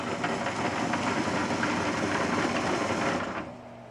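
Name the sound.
MBM 352F folder folding stapled sheets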